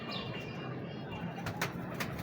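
A purebred pigeon coos softly and close by in a quiet indoor space, with faint background murmur and a couple of brief rustles.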